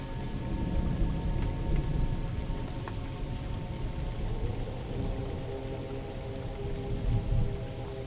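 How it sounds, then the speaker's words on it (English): Steady rain patters on a roof in a constant, soft wash, with a low, faint rumble of distant thunder rolling underneath and no voices present. "Rain continues on the roof above, a soft, familiar rhythm, and the thunder remains far away, rolling quietly in the distance."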